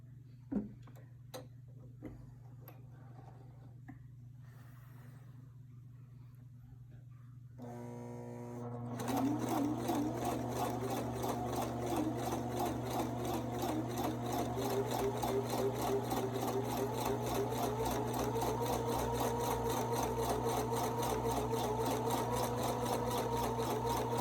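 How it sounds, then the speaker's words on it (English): A sewing machine stitches across a fabric face mask, a few sparse taps at first, then a rapid steady mechanical whirr and ticking that runs continuously and close for the rest of the clip. "you're just gonna sew all the way across with that"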